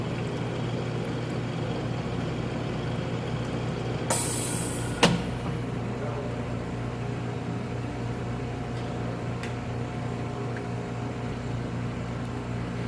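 A Struers Abramin metallographic polisher runs with a steady mechanical hum, with a brief sharp click and burst of hiss partway through, with no talking.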